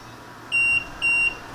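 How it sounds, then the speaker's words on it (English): Two short, identical high-pitched electronic beeps in quick succession from a car's aftermarket powered frunk latch, clear and close against a quiet background. "you wait a while and you hear a series of beeps to let you know it's gone into the mode"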